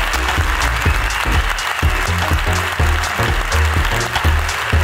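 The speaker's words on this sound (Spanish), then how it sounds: "¡Aplausos para la ruina" Loud, sustained applause from a live comedy podcast audience, dense clapping that keeps an even level throughout with a few louder bursts.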